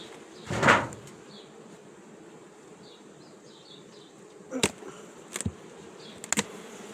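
A low, steady buzz of many honeybees in an open hive fills the background, broken by a few sharp wooden knocks and clicks.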